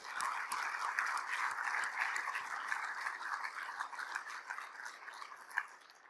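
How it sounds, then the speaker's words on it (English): A crowd at the Greystone Event 2022 gives a sustained round of applause for the Greystone team, dense clapping that fills the room at a steady level before thinning out toward the end. "I would like to start a round of applause to the Greystone team here"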